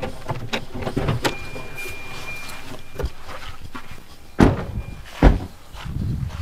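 A car door thuds shut twice in quick succession at a roadside firecracker stall, with a low engine hum and light street noise between the sharp knocks.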